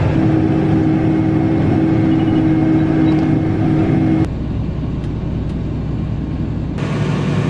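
Tractor pulling a 60-foot planter across a field at planting time, a steady loud engine rumble and drone throughout, the tone shifting abruptly partway as the load changes, with no talk.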